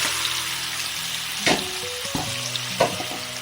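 Sliced onions sizzle in the oil left from frying chicken for a chicken curry. A steady, close frying hiss is broken by two sharp knocks of a stirring utensil, with no talk.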